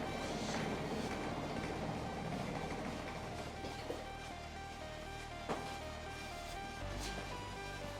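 Trambesòs tram pulling out of a station at Sant Adrià, heard as a steady low rail rumble and rolling hum at middle distance, with a couple of faint clanks and a slight swell near the end.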